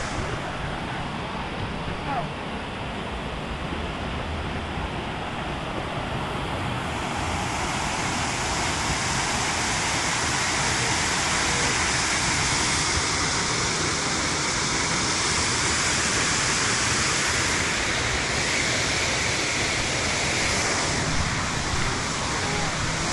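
Outdoor ocean-side ambience with a steady broadband roar of falling or rushing water near a waterfall, joined by surf and wind noise, continuous and fairly loud throughout; people talk briefly over it.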